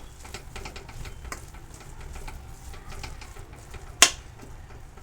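Sweet potato roasting in ghee in a pan over a low gas flame, a soft steady sizzle with light scraping of stirring and one sharp clink near the end.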